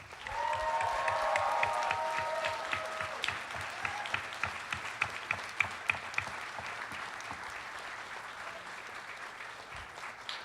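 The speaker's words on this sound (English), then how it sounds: "please give them a big round of applause" Audience at a convention closing ceremony applauding staff and volunteers, sustained dense clapping that swells early then gradually thins out, with a few sharper individual claps standing out near the end.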